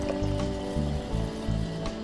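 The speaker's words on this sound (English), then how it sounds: "Let's pour the water." Water pours into a plastic tie dye bottle, a brief close trickling fill over a low pulsing background hum, with no one speaking.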